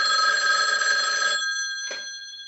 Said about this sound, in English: before the phone rings again to interrupt